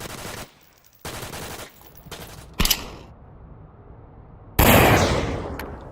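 Gunfire from the VR shooter game Onward comes in short, loud bursts separated by brief pauses, with a final heavy burst near the end and no talk over it.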